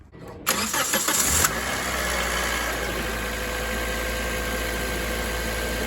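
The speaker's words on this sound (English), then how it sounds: "we're going to turn on the car for about 30 seconds" A Pontiac Vibe's engine cranks briefly, catches and settles into a steady idle hum that carries on to the end, recorded close by.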